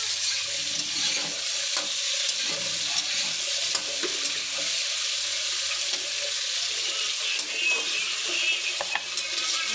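Prawn malai curry base frying and being stirred in a pan, with grated tomato in the mix: a steady bright sizzle runs throughout, broken by soft scraping stirs, with no talking.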